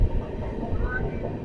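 A passenger train rolls steadily along its rails on a scenic route near Wayanad, giving a continuous low rumble and rattle heard from on board, fairly loud and unbroken, with no talk over it.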